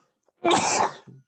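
A single sharp sneeze bursts out close to the microphone, loud and brief, followed by a short softer breathy tail.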